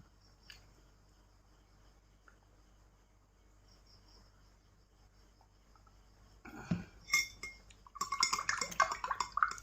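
A spoon stirs Kapten coffee mixed with milk, clinking rapidly and loudly against the cup after a long quiet stretch with faint crickets in the background.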